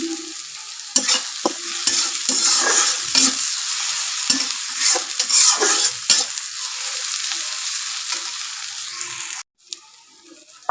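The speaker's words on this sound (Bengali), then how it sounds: "তেজপালা লাল লাল করে ভাজা হয়ে দিয়েছে" Bay leaves frying in hot oil in a pan while a spoon stirs them, a steady close sizzle with repeated scraping strokes, alone without voices, ending in a brief pause.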